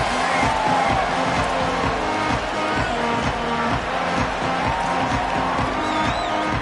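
A home crowd in the NCAA 27 football video game gives off a broad, continuous roar over a steady, repeating rhythmic pounding.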